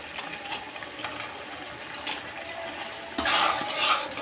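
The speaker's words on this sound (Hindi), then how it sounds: "सभी हम अच्छे से मिक्स कर देंगे इसे" Gajar ka halwa, carrot pudding with cashews, almonds and mishri, is stirred in a pan on the stove, soft scraping and sizzling moist cooking sounds, a brief louder scrape toward the end, no speech.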